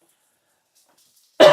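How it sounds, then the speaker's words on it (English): After near silence, a single abrupt, loud throat clearing or short cough bursts out close to the microphone at the very end. "There, cough, cough."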